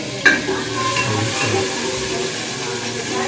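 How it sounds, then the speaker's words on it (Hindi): A tadka of oil, tomato and chilli fries in a hot pot with a continuous loud sizzle and hiss, and a brief stirring scrape near the start. "हमने डाल दिया है ऑयल डाल दिया और जो है ना तड़का टमाटर मिर्ची डाल दिया"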